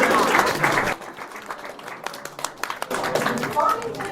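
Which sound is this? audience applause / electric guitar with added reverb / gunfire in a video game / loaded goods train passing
audience applause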